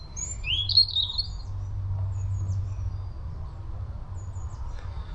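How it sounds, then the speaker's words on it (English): Several small birds chirp and sing outdoors on a fine day, with bright high tweets clustered early and sparser calls continuing over a low steady background rumble. "Got a couple of different little birds knocking about."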